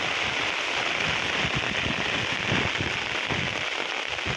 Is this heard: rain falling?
yes